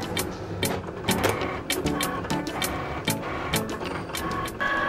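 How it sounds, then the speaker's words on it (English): A Cricut cutting machine slices glitter iron-on vinyl with rapid mechanical whirs and clicks, the carriage moving in quick repeated bursts, close and alone without talk. "press the go button, and let your Cricut machine do its thing"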